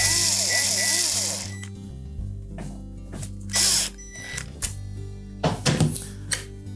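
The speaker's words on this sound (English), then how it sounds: "We'll secure it with the 2 screws." Two screws are driven in to secure a new warming control switch on a GE range, with short whirring bursts of a power driver and light clicks of metal parts, close and moderately loud.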